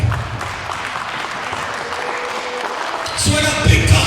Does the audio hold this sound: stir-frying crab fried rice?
no